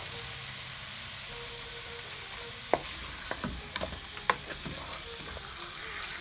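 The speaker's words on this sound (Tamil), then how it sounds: "நல்லா அதுலேயே பொரிய விடுங்க." Chicken fries in oil with a soft, steady sizzle, broken by a few sharp clinks and scrapes of a utensil stirring in the pan, fairly quiet and without talk.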